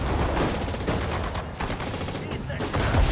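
Gunfire from the World War II strategy game Sudden Strike 4, a dense, continuous barrage of shots with rapid repeated bursts, loud and close throughout, with German voice commands shouted between volleys.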